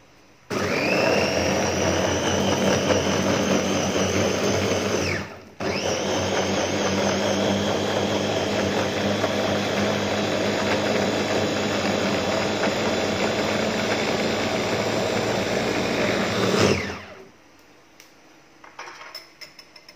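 A blender with a missing rubber gasket grinds durian, a loud, harsh whirring roar that runs continuously, breaks off briefly, restarts and then winds down to silence near the end.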